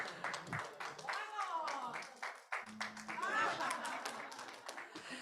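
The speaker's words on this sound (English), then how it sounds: "Ladies and gentlemen, let's give a big round of applause." Event audience claps in a modest, uneven round, fairly faint and a little distant, with light chuckles and voices mixed in.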